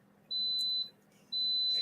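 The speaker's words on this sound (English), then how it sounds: "Our yogurt's done. That's the beeping." Yogurt maker beeping once its batch is finished: two long steady electronic tones, each about half a second, separated by a short pause, loud and clear over quiet room hum.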